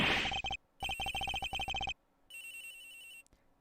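A phone in the Ace Attorney Investigations game rings with a repeated electronic trill in rapid bursts, then a longer steady tone, clear and alone without any talk.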